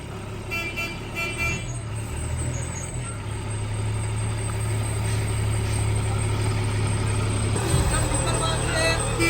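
A heavy truck pulls away with a steady low engine rumble that swells near the end, a horn toot and traffic noise around it, and people talking over it.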